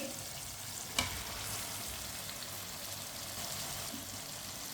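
Fried potatoes and cauliflower are mixed in a pan, giving a soft, steady sizzle with one sharp clack of the spoon early on, quiet and close with no voices.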